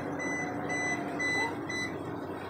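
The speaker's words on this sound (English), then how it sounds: "still getting a shallow alarm here." A boat's depth sounder sounds its shallow-water alarm on a river stretch of the Erie Canal near Herkimer, New York, giving a steady series of high, evenly spaced electronic beeps over a low engine hum.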